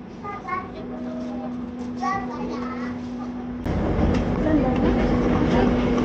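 Steady low rumble and rattle of a moving passenger train carriage on the Fajar Utama Yogya service, growing louder partway through, with children's voices chattering over it.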